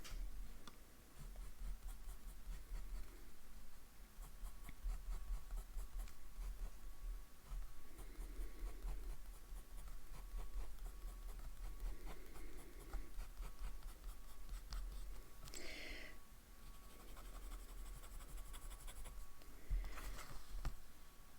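A TWSBI Eco transparent purple fountain pen with a broad nib scratches faintly across paper in short strokes and pauses, quiet and close, with a few brief louder rustles near the end.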